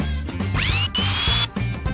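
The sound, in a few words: dental drill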